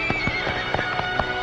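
Horses' hooves clip-clop close by in a quick, steady rhythm of sharp knocks over a brief stretch.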